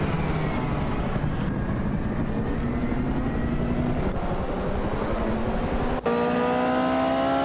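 Vintage race cars, led by a classic 1988 Toyota 88 CV, accelerate off the line at the Chicago Street Circuit in a racing video game, a loud, layered engine roar rising in pitch with a sharp gear change near the end.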